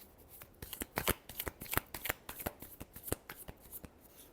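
Tarot cards being shuffled by hand during a Libra weekly reading, giving a quick run of crisp riffling flicks and slaps close to the mic. The rhythm is steady and uneven over a quiet background, with no talking.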